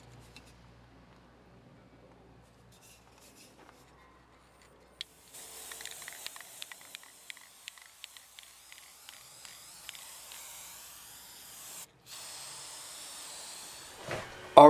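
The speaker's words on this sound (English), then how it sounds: "I want to blow this off and lacquer it so whatever it is, whatever's there, stays there" Lacquer sprayed onto a wooden wall hanger, a soft hiss starting after a quiet stretch, broken by faint clicks of the nozzle, with bursts of spray near the end.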